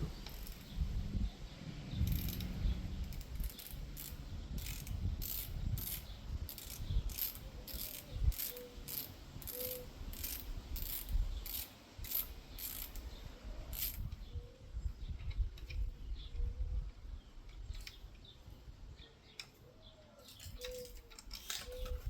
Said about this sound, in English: 6mm Allan Key, and you're going to remove the top of the fork mount on each side, just the top screw.